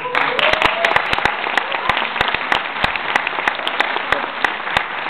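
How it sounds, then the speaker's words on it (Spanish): Audience applause at a festival performance: steady, dense clapping from a crowd, close and sustained for several seconds. "Un aplauso a mis compañeros."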